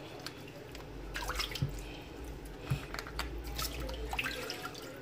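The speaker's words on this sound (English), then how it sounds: "I wash my fish like 3 to 4 times." Fish being washed under running water in a kitchen sink, a steady trickling flow with scattered drips and splashes, fairly quiet and close, with no talk over it.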